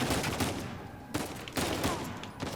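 Bursts of rapid gunfire in Uncharted 4 crackle through a dense, noisy mix, several volleys in quick succession with brief pauses between them.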